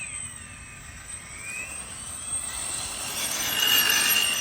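Axial SCX6 RC crawler's electric motor whining at full throttle, a thin steady high-pitched whir that rises and grows louder toward the end, with no talking.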